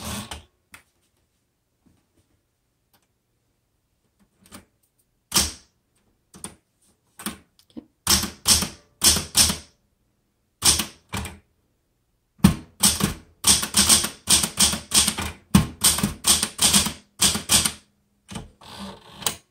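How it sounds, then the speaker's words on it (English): Key strikes on a Smith Corona Galaxie Twelve vintage manual typewriter, starting as a few sparse taps and building into fast, irregular bursts of loud, crisp clacks close to the microphone, with brief pauses between runs. "let's go ahead and start typing"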